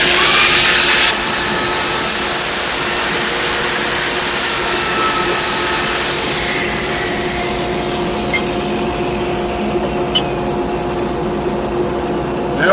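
Steady broadband whirring rasp of a wooden pizza handle being sanded with 320 grit paper on a lathe, continuous and fairly loud with faint tonal hum underneath, no talking.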